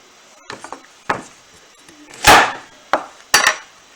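A knife cuts zucchini on a cutting board in a few separate, close, sharp chops and thuds spaced irregularly, with one longer crunching slice in the middle and no talking.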